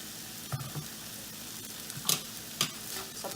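Tomato, soy and chilli sauces are mixed into vegetables frying in a pan for cheesy pasta, a quiet background sizzle broken by several distinct scraping and clattering stir strokes.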